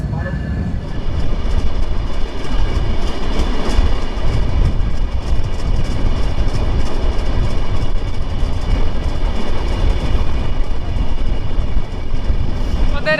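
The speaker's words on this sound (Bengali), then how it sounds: "জাহানাবাদ এক্সপ্রেস ট্রেন এখন নব্বইয়ের উপরে মানে নব্বই একানব্বই বিরানব্বই পঁচানব্বই কিলোমিটারে যাচ্ছে" The Jahanabad Express passenger train on the Dhaka–Khulna line in Bangladesh runs at about 90 km/h, making a loud, continuous rumble and rattle from start to finish.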